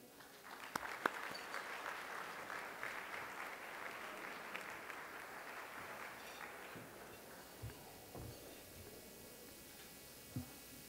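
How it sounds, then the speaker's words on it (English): An audience at a conference claps steadily for several seconds, the applause gradually thinning out and fading, with a few scattered knocks near the end. "So I'd like you to meet and please a nice round of applause for Alexandra."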